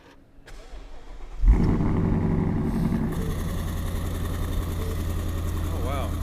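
A 2015 Ford Mustang GT with Roush Stage 3 upgrades cranks briefly, fires into a loud start and settles into a steady rumbling idle close by.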